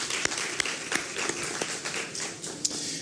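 Audience at a Ghana Journalists Association anniversary symposium claps, a modest spread of hand claps with a few sharper individual claps standing out, moderately close and sustained throughout.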